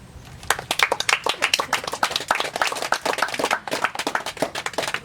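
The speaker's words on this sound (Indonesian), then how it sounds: "Kita berikan aplaus satu sama lain." A live audience applauds one another, with dense, close hand-clapping swelling after a brief quiet start and continuing steadily to the end, with no talk over it.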